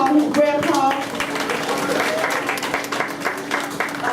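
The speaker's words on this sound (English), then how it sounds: "When I say Mr. Galbraith, you all give him a good round of applause." A crowd applauds Mr. Galbraith at an elementary school Grandparents Day, dense clapping from many people filling the room, starting loud and settling into a steady roar, with some voices mixed in.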